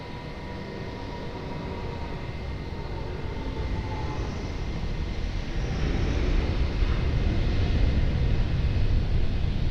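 A jet airliner at Lisbon Airport rumbles with a steady, broadband roar that swells gradually louder toward the end as it nears, with no voices heard.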